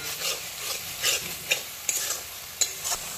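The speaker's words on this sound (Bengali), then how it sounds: "তো এবার ভালো করে কিন্তু তেল ছাড়া পর্যন্ত আমি মশলাটাকে ভালো করে কষে নেব।" Tomato and spice masala stir-fried in oil for begun bahari, a Bengali aubergine dish, with a steady soft sizzle broken by several sharp spatula scrapes against the pan.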